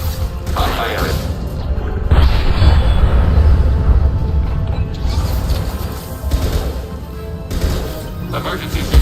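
Impact shot weapon fire and explosions in the Mass Effect 2 video game, heavy booming blasts and crashes over a dense rumbling battle bed, loud and continuous, with a voice speaking under the action.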